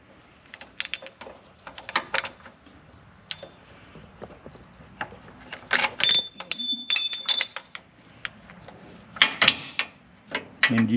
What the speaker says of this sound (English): And now I'm going to pull the pulley forward.